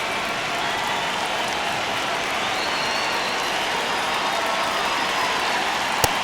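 A baseball stadium crowd in MLB The Show 26 keeps up a broad, steady roar during a tense ninth inning of Pittsburgh Pirates vs Texas Rangers, with a single sharp click near the end.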